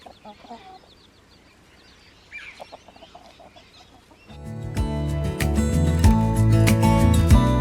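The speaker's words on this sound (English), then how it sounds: "We've got 3 new baby chickens." A hen and three new chicks in a chicken coop cluck softly and intermittently at first, then a loud, dense burst of sound takes over, with voices present.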